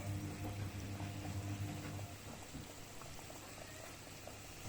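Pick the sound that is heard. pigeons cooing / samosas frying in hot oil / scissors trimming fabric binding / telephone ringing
samosas frying in hot oil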